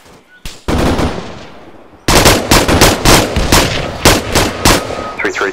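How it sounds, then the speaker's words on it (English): Rapid machine-gun bursts and rifle fire during a military exercise, loud and close, coming in repeated volleys with short pauses between them, with faint radio-style voices underneath. "Can you see where the fire's coming from?"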